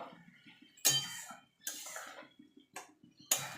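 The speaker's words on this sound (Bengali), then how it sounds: "এবার যে ছোলাটাও সিদ্ধ করে রেখেছিলাম সেটা দিয়ে দেবো, দিয়ে ভালো করে মিশিয়ে নেব" Boiled chickpeas tipped into a pan of cooked-down masala and stirred, a spoon scraping and clinking against the metal pan in several separate bursts, close and clear, with no talking.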